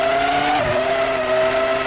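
Formula One race cars from the 2003 Formula One video game at the Austrian Grand Prix, a Williams and a rival car battling for position, give a loud, sustained high engine whine that dips slightly in pitch midway, then holds steady.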